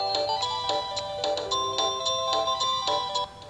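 A Panasonic cordless home phone rings with a Christmas melody ringtone, a bright electronic tune of quick repeated notes in a steady rhythm, close and clear, with no voices.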